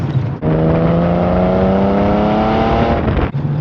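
A 1981 Porsche 930 911 Carrera engine drones loudly and steadily from inside the car while driving, holding a strong, even tone for about three seconds between quieter moments.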